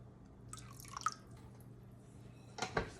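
Whey dripping from fresh mozzarella curds into a bowl, a few soft separate drips near the start and a brief cluster toward the end over a quiet room hum.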